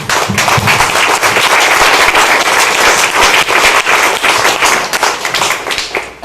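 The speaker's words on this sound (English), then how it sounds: "I want to give every last one of y'all who are here today a round of applause." A crowd gives a sustained round of applause at a Relay for Life event, dense clapping filling the whole stretch at steady loudness with a few sharper claps standing out.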